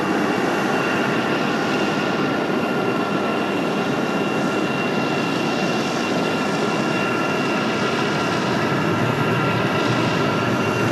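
A United Express regional jet operated by Mesa Airlines roars loudly and continuously at Raleigh-Durham airport, a steady engine rumble with no talking.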